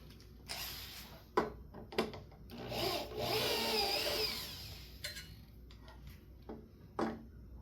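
A cordless power drill in use while mounting a ceiling fan bracket, with short bursts of whirring and a longer steady run in the middle, mixed with clicks and handling knocks.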